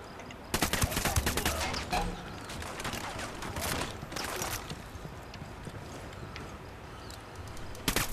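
Automatic machine gun fire and other gunshots from the video game Ghost Recon Wildlands, a dense loud burst of rapid cracks early on, then scattered shots and rumbling explosions over the remaining seconds.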